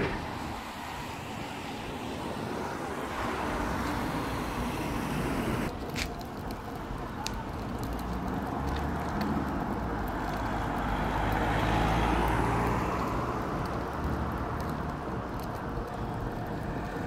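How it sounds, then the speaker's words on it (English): A car drives along a road in Stavern, Norway, giving a steady low rumble of engine and tyre noise heard from inside, fairly quiet and continuous, with faint rattles and a slight swell later. "Now we are driving some kilometers."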